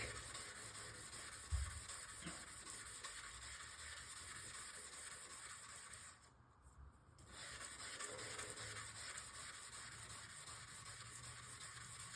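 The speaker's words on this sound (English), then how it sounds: "We're just gonna start polishing off this blade and continuing." Steady abrasive rubbing of a Damascus steel blade being polished to a decent rather than mirror finish, a continuous hissy scrape that pauses briefly midway, close and alone without talk.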